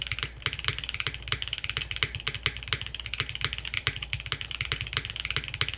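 Fast, steady typing on a Finn 60XT keyboard fitted with milky yellow switches, close and crisp with a sharp clacky profile, many keystrokes in a continuous rhythm with no talking.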